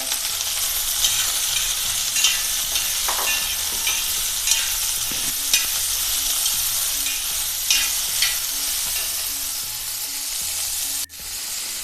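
Steady sizzling of sliced onions and green chillies frying in hot oil after mustard seeds pop, with occasional spatters and light stirring taps, close and continuous.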